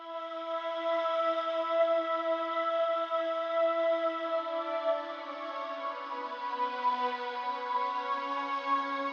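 A sustained, airy vocal sample, Thought from the Exhale library in Kontakt, played in a lofi beat. It holds a steady chord-like tone with soft echo and dips slightly in pitch midway, heard alone and fairly quiet.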